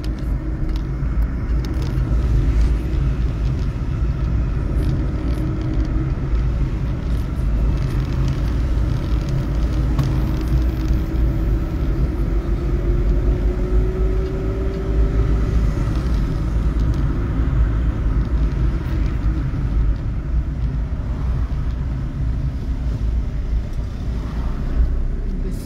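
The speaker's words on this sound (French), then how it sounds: "il y a des voitures qui arrivent" Cars approach and pass on a damaged road near a large pothole between Mamoudzou and Dzoumogné in Mayotte, a steady engine rumble with wind buffeting the microphone and a brief rising engine tone midway, no talking.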